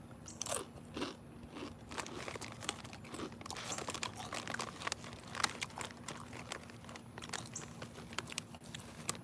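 Loud, close crunching and biting on extremely spicy Takis rolled tortilla chips, with repeated crisp crackles and chewing filling the whole stretch and no talking.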